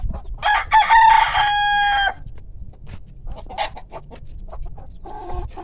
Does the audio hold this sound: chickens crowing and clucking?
yes